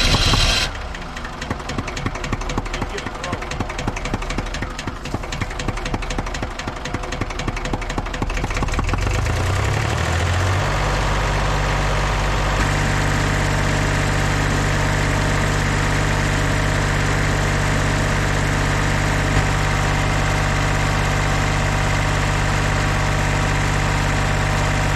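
A diesel roller compactor, started for the first time in 30 years, shifts from a rough, rattling turnover into a loud, steady idle that drones on close by without talk.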